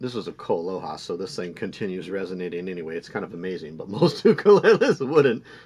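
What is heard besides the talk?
No distinct noise like a dog, phone or traffic.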